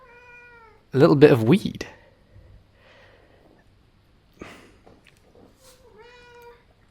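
A house cat meows loudly and insistently nearby, with one long strained yowl and a few shorter cries spread through the stretch, while a person speaks in between.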